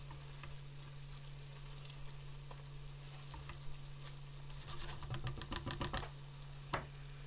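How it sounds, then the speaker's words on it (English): Jalfrezi curry with fresh coriander fries in a pan with a low, steady sizzle, while a spoon stirs and scrapes in a rapid rattling burst midway, with a few scattered knocks, close and fairly quiet. "Add most of the fresh coriander, mix through and cook for 3 to 4 minutes until the oil separates."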